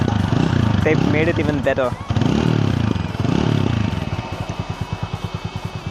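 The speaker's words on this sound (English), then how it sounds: "I just love the way the TVS bike sounds" A TVS Apache RTR 200 4V motorcycle engine revs and burbles beneath someone talking, then settles into a steady, pulsing thump at idle near the end.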